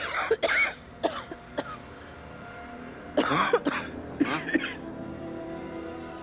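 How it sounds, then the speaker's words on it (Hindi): Several short, sharp coughs come in two clusters, fairly close, with quiet room noise between bursts. "नहीं, बस थोड़ी सी खांसी है।"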